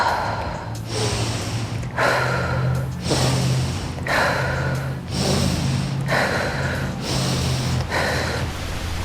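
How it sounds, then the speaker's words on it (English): Deep, forceful breathwork breaths cycle continuously without pause, about seven rhythmic inhale-exhale rounds close to the microphone, each a loud rushing gasp and release. "So it has to be a constant rotational breath without stopping."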